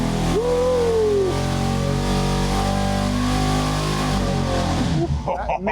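Chevy 350 V8 on an engine dyno revs hard and holds a loud, steady high-RPM roar with a rising pitch sweep early on, then cuts off abruptly near the end, leaving a brief rattle.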